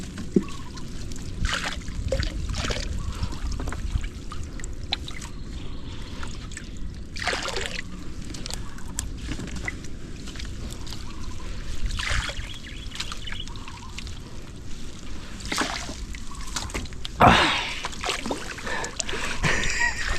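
Rushing river water pushes against a small boat, a continuous wash of splashing and churning with sharper splashes now and then, while people talk over it.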